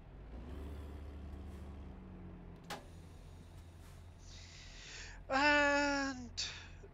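Truck air brake in American Truck Simulator, a loud pressurized hiss with a tonal whistle that cuts in and out in short bursts, following a low idling engine drone and a sharp click.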